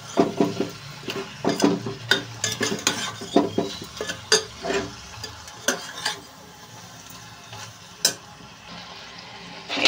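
Eggplant, prawn and egg curry frying in a pan while being stirred, repeated scraping and clanking of a spoon against the pot over a light sizzle, in irregular bursts.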